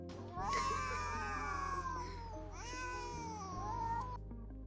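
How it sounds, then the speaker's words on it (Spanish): Cats fighting on a roof, yowling and caterwauling in long wavering wails that rise and fall, close and fairly loud, with tonal electronic hum running underneath. "a los gatos se les antoja pelearse en el techo."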